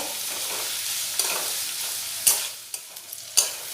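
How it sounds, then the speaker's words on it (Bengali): Chopped tomatoes stirred into fried onions in a pan while cooking ghugni, a steady sizzle under a few sharp spoon scrapes and taps against the metal, close and moderately loud with no talk. "টমেটোগুলো একটু 2 মিনিট নাড়াচাড়া করে নেব।"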